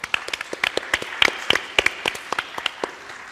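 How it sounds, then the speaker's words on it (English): Conference audience applause, scattered sharp hand claps from a modest crowd, fairly close and uneven in rhythm. "A warm round of applause for our speakers"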